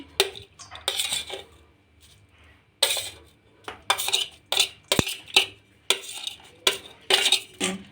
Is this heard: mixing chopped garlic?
yes